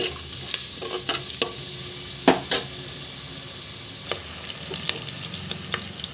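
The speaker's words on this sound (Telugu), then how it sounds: "ఆనియన్స్ని బాగా మంచి గోల్డెన్ కలర్ వచ్చే వరకు బాగా ఏగనివ్వండి" Onions and curry leaves fry in a pan until golden, a soft steady sizzle under intermittent stirring, with several sharp scrapes and clinks of the spoon against the metal.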